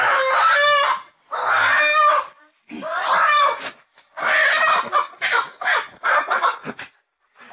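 An old, nearly featherless hen among a flock of chickens gives loud, close clucking and squawking calls in several separate bursts with short silent gaps between them.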